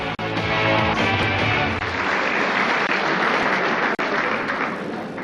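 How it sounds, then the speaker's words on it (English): An audience claps at an awards night in the Savoy Ballroom: a dense, sustained wave of applause that fills the room throughout and thins slightly toward the end, with no voices over it. "by their applause in the Savoy Ballroom here tonight, our guests have awarded their golden goal of the season"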